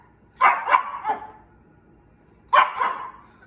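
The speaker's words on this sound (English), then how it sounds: "The vet's dog talking to me, and you want a pork chop." A dog at a vet visit barks nearby in a quick burst of three sharp barks, then falls silent and gives one more bark after a pause.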